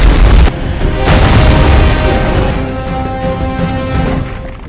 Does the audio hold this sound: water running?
no